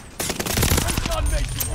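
A Cooper Carbine assault rifle fires in Battlefield 1, a rapid automatic burst of close, loud shots running steadily through the whole brief moment.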